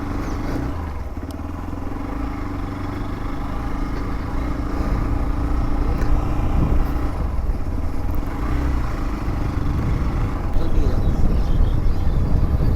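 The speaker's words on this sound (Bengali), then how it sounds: "চিন্তা নেই, অফ রোডিংয়ের বাইক আছে," Off-road motorcycle ridden along a rough track near Jajahatu, its engine a steady, continuous close drone throughout, with no talk heard.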